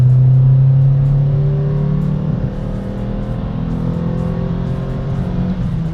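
A Renault Twingo RS with a naturally aspirated engine revs hard under acceleration, a loud rising engine drone heard from inside the car, easing slightly as it pulls, with no talk.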